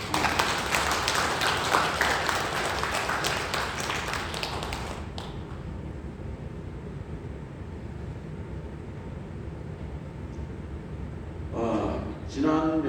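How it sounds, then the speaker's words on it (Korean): A church congregation applauding, dense clapping for about five seconds that then fades to a quiet room hum, with a short burst of talk near the end. "박수를 올려드리시겠습니다."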